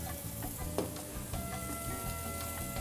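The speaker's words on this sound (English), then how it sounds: "La plancha, very hot, as you can see, with extra virgin olive oil." Langoustines frying on a very hot plancha in extra virgin olive oil, a steady close crackling sizzle with brief sharper pops.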